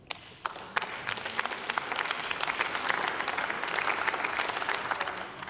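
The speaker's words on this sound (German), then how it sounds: "Applaus" Applause fills the German Bundestag chamber during a speech on family, women, seniors and youth, starting with a few sharp claps and swelling into steady, sustained clapping from many members.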